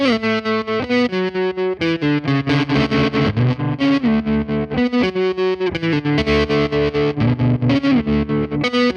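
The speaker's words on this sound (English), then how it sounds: "this limited edition Parabola Pawnshop tremolo with that kind of vibe and a lot more gain" An electric guitar plays through a Caroline Parabola Pawnshop limited-edition tremolo pedal with high gain, giving loud distorted chords pulsing in a steady, rhythmic tremolo chop.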